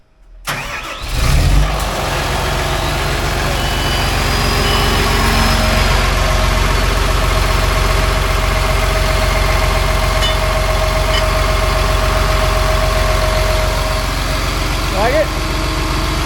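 A John Deere 850J dozer with only 11 hours, which previously would not run, cranks and catches, then settles into a loud, steady diesel idle close by while people talk over it.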